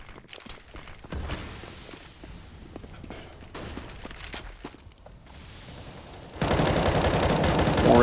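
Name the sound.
gunfire through boards in the video game Counter-Strike, Overpass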